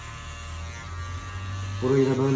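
An electric hair clipper hums steadily during a haircut, its buzz rising and brightening near the end as the blade bites into hair, with someone speaking over it.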